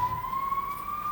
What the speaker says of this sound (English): what I do while there are ambulances and emergency services blasting outside my door